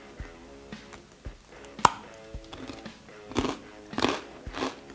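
Crisp crunches of homemade grissini, crunchy breadsticks topped with gorgonzola pâté, being bitten and chewed close up, several sharp snapping bites followed by irregular crackling chews.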